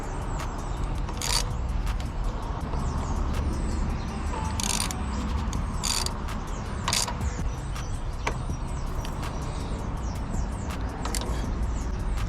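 A hood strut on a 2020 Honda Accord is tightened at close range, with scattered creaks, sharp clicks and light metallic rattles spread unevenly over about twelve seconds.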